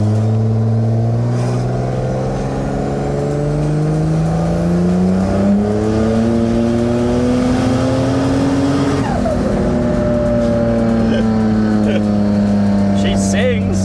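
A Holden VL turbo wagon engine revs up strongly under boost, its tone climbing steadily and then holding high and loud, with a voice heard briefly over it.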